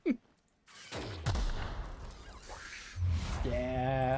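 A grenade launcher fires in The Outer Worlds with a deep thump, followed by a rumbling blast and a long wash of explosion noise, loud and close, ending with a tonal game sound.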